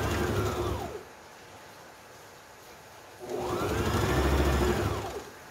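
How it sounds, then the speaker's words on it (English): A sewing machine stitches fabric for a homemade face mask in two close bursts of steady whirring hum, the motor ramping up and down each time with a quiet pause between. "So I'm going to sew here and here."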